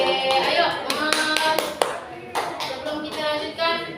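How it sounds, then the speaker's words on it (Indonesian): Students clap at a school workshop at SMA Negeri 1 Kisaran, in uneven bursts of close, sharp handclaps that rise and fade with short pauses between them. "tepuk tangan buat kita semua"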